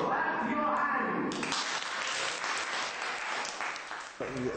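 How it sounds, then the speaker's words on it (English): A class of children and volunteer teachers in Italy clap their hands together in a group, a dense burst of clapping that follows brief talk and runs for several seconds before tapering off. "Clap your hands."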